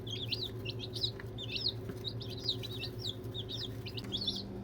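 Newly arrived baby chicks in a brooder under a heat lamp peep in quick, high, repeated chirps, a busy near chorus over a steady low hum.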